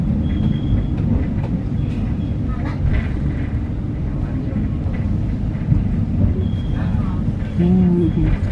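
A train rolls past in the Indonesian rail setting, a steady loud low rumble of wheels and carriage noise filling the whole stretch, with faint voices now and then underneath.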